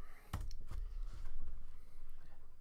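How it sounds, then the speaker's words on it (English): Fingers type a search on a computer keyboard, giving a few quiet, close clicks and key taps at an uneven rhythm against soft background noise. "So we're gonna type in Deathly Hallows"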